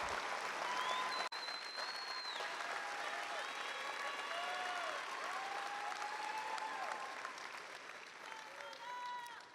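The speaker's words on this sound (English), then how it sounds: "Please join me in giving them a round of applause." Applause from a crowd at a Bryan High School graduation ceremony in 2019, sustained clapping filling a large hall, with scattered cheers and whistles rising above it.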